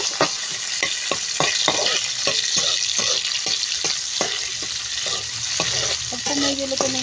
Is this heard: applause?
no